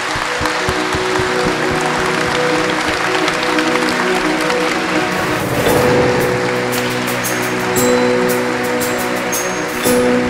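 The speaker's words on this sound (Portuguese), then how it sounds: "Então agora nós pedimos uma calorosa salva de palmas ao Frei Ladi e ao seu staff." Warm, sustained applause from a church congregation during a religious program, dense clapping that continues steadily, with a few brief tonal sounds appearing toward the end.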